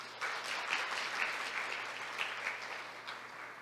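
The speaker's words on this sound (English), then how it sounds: "please join me in welcoming him with a warm round of applause" Sustained audience applause welcoming a speaker at an international judicial policy conference, a steady dense wash of many hands clapping in a hall, moderately loud and unbroken with no talk over it.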